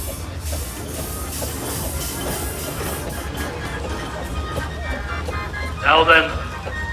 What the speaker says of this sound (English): Again, another Showman's engine, and once again you'll notice a big generator on the front